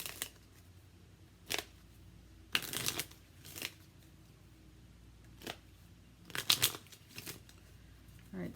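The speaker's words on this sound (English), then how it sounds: "let's pull one more card" Tarot cards shuffled and pulled during a reading, heard as several short crisp riffling bursts spaced a second or two apart against a quiet room, with no talking.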